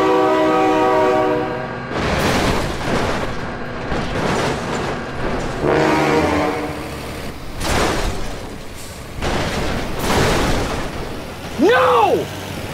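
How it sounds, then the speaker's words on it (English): A train in a truck-crash video game blasts its horn repeatedly while rumbling closer, loud and near, with a brief voice near the end. "my god, train!"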